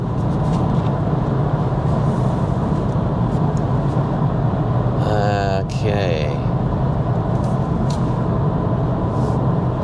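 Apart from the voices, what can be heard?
road noise inside 2022 Audi S3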